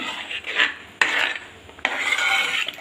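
A spoon scrapes and rasps against a pan while stirring jackfruit payasam made with coconut milk, in three close, distinct scraping strokes with short sharp onsets.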